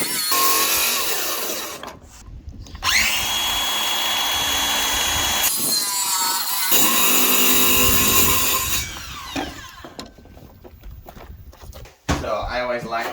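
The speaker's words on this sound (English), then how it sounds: "when I run my circular saw along" A circular saw cuts through a plywood sheet laid over a bathroom floor. It is a loud, sustained, high-pitched whine that rises and falls over the cuts, with a brief drop between them and talk mixed in.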